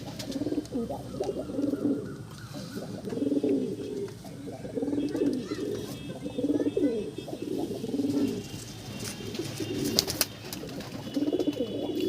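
Pigeons in a loft setup coo repeatedly in steady, rhythmic rolling phrases, nearby and moderately loud, with occasional clicks and rustling in the background.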